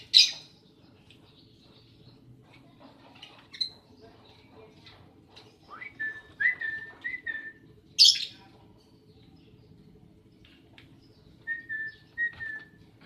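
A pet bird in a colony chirps and gives short, clear whistles, scattered in bursts across a quiet room with brief faint sounds between calls.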